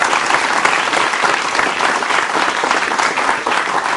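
A studio audience at a campus talk show on Malaysian sport gives strong, even applause, dense clapping from many hands close by throughout.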